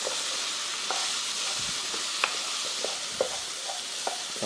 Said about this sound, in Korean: 양파랑 피망 양파를 절반 이상 익을 때까지 볶아줍니다